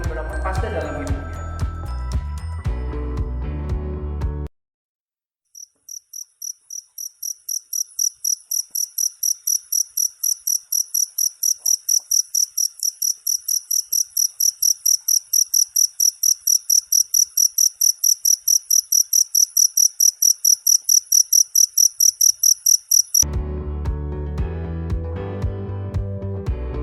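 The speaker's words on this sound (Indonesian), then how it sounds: "Ya, itu adalah suara jangkrik." Crickets chirp in a fast, even pulsing trill, clear and steady for about eighteen seconds, set between stretches of music before and after.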